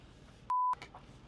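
A single short telephone keypad tone, one clean steady beep against a quiet room background, with no voices.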